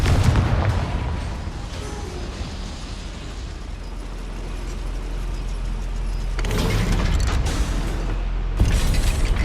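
Spell explosions in the Hogwarts Legacy video game inside a goblin mine, loud booming blasts over a rumbling mechanical background, with a sharp burst near the end.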